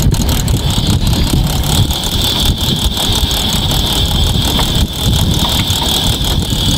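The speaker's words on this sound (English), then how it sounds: "So if I put the main engine on, it should pick up." A boat's main engine runs loud and steady on a vessel being fitted with an anchor winch hydraulics upgrade, with a constant droning rumble and a high whine continuing throughout without talk.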